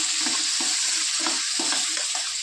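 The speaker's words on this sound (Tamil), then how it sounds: "அப்படியே வதக்கி விட வேண்டியதுதான்." Garlic chutney ingredients sauté in a pan under a steady, loud sizzle, with rhythmic stirring scrapes about every half second, close by and with no talking.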